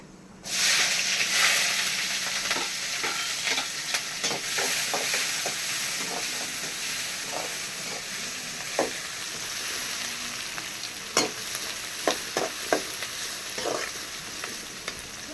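Onions fried in a pan for a paneer egg curry, a steady loud sizzle and hiss throughout with occasional clicks and scrapes of stirring.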